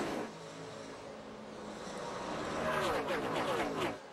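A NASCAR stock car, the 24 car, roars past at the Brickyard 400 in Indianapolis, its engine note building to a loud drone and then fading toward the end, with race commentary faintly underneath.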